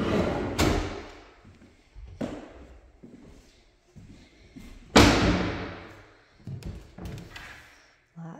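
Built-in cabinet drawers in a house are slid open and shut several times, giving a run of close wooden thuds and knocks of varying loudness with short scrapes between them.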